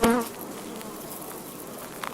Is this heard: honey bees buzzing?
yes